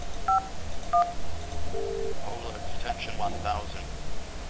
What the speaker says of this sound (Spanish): desde el teléfono se marca 251